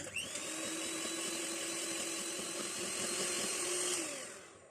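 An electric beater whirs steadily and close, whipping butter, sugar and eggs with vanilla into a fluffy nut cake batter, its motor tone holding constant for several seconds before winding down.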